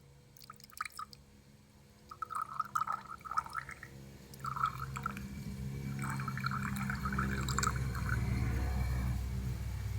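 A boiled Vinca rosea decoction is poured through a filter into a cup, with scattered drips and splashes that build into a steady, close trickle of liquid filling the cup.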